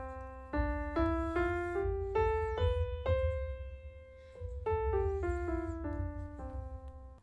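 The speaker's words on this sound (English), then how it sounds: "Scales, no matter what note you start on, a major scale will always sound like this." Major scale played on a keyboard over a low sustained bass, a run of clear, evenly spaced single notes stepping up, then a second similar run after a short pause, all alone.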